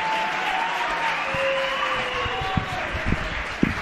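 Audience applause for a school technology teacher during a live school radio broadcast, a steady wash of clapping lasting throughout, with faint voices and tones running underneath.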